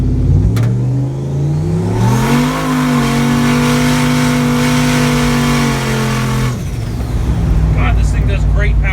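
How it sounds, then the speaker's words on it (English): A boosted Canadian farm drag truck roars into a power skid, its engine revving up and holding a loud strained howl over broad tire-scrub noise for several seconds before the throttle drops off. "God, this thing does great power skids."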